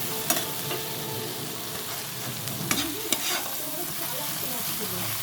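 Paneer mixture with added sugar being stirred and fried in a pan, a steady close sizzle broken by a few sharp scraping strokes of the spoon, with no voices.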